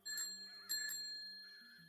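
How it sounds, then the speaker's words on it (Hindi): An old bicycle bell rings slowly in a misty setting for a Hindi ghost story, giving a few bright metallic dings that linger, with a low tonal background underneath and no one speaking. "धीरे धीरे घंटी बजा रहा था,"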